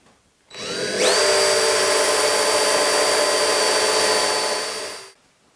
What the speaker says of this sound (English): So I went ahead and drilled a longer one